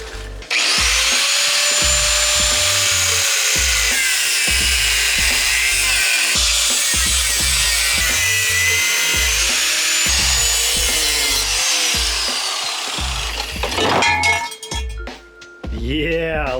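A power tool cuts through welded metal engine mounts during a K20 swap into a Mitsubishi 2G Eclipse, a loud steady grinding whine with rhythmic pulses, winding down near the end.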